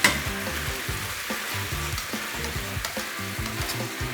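Meat rolls wrapped around vegetables frying with soy sauce, sake and mirin, producing a loud, continuous bubbling sizzle close up with no talk.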